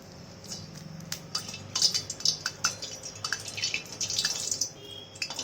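Bati dough balls frying in hot oil for dal bati, a soft steady crackle and sizzle with scattered small pops and ticks throughout, fairly close and quiet with no talking.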